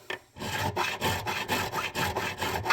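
Steady rhythmic rasping of frets on a Washburn D10N acoustic guitar being filed and sanded, quick back-and-forth strokes repeating evenly, close and fairly loud with no talking.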